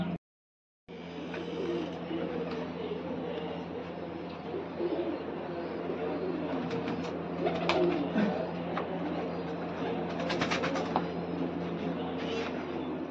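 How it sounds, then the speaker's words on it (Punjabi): Two pigeons kept at home coo softly and repeatedly against a steady low indoor hum, after a brief silent gap at the start. "ਘਰੇ ਆ ਦੋ ਕਬੂਤਰੀਆਂ ਨੇ"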